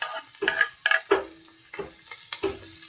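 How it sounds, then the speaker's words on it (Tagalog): Garlic and onion sautéing in a pan, with several distinct stirring scrapes and clatters spaced about half a second apart over a faint background sizzle. "maggigisa tayo ng bawang at sibuyas kasi magsasarsyado tayo mga sis"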